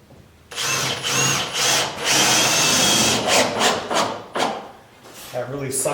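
A power drill drives screws into the frame of an exterior door being installed in a guesthouse, running in several loud whirring bursts of varying length with short gaps, and a brief pause near the end before a final burst.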